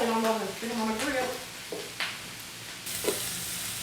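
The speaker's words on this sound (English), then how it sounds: "I'm going to bring the plate on over and stick them on the grill." Sausages sizzle on a grill, a steady frying hiss with a few brief clatters, while a voice talks faintly over the start.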